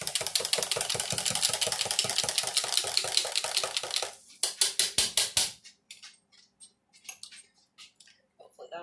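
A spatula moves warm leftover pork around a hot pan, making a fast, steady clatter of scrapes and taps for about four seconds, then a few louder separate scrapes and faint scattered ticks.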